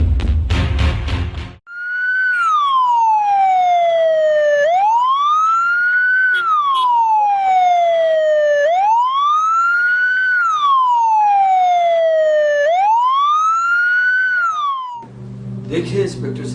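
Loud wailing ambulance siren in a radio drama, rising and falling in slow, regular sweeps about four times, close and dominant, with brief bursts of other sound at the start and end.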